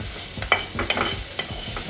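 A dish being stirred and mixed with a utensil right after salt is added, close scraping strokes and clinks against the pan over a faint sizzle, repeated at an uneven rhythm.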